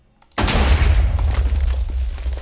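A single loud explosion in the video game Forgecraft 2 bursts in suddenly, then rolls on as a long, heavy rumble that slowly fades.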